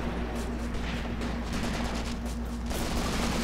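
Sustained WW2 machine-gun and mortar barrage in the Graviteam Tactics battle game, a dense, continuous crackle of distant gunfire with no pauses over a steady low hum.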